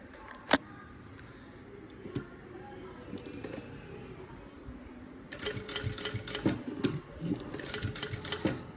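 A sewing machine stitches a kurti in bursts of rapid mechanical clatter, louder and denser in the second half, with a few sharp isolated clicks earlier on.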